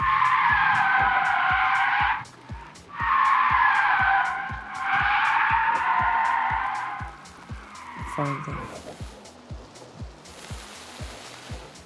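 Long, loud tire screeches from an Unreal Engine vehicle simulation, two sustained skids with a brief gap between them, then fading into quieter rumbling and scattered clicks.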